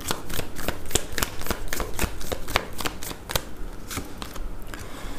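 A deck of tarot cards shuffled by hand during a reading, a steady run of close, crisp riffling flicks that thins out toward the end, with no speech.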